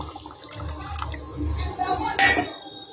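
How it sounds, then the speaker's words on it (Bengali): Water is poured into fried masala in a pan for a kofta curry, making a continuous low splashing rush that swells toward the end, close by with no talk. "এবার আমি জল দিয়ে দেব জলটা আমি দিয়ে দিলাম"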